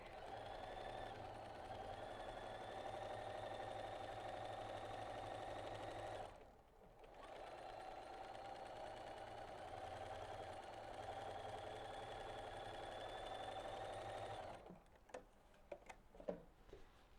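Sewing machine stitching quilt seams on a small Scandinavian snowflake quilt project, a steady close mechanical whir and rapid ticking that runs alone, pauses briefly, resumes, then stops with a few clicks.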